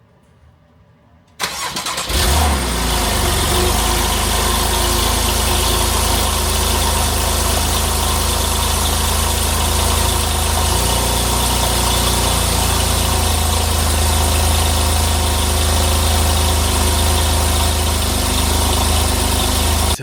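A Porsche 911 fitted with a cheap aftermarket Alibaba exhaust with an X pipe starts up and settles into a steady, loud, droning idle, with no revving and no talking.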